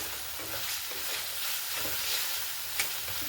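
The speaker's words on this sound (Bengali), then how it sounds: "আর একটু কাঁচা সর্ষের তেল 1 চামচের মতো দিয়ে মশলাটা ভালো করে একটু কষে দিচ্ছি।" Spice paste frying and being stirred in mustard oil, a steady close sizzle with scraping stir strokes throughout and one sharp clack near the end, no voices.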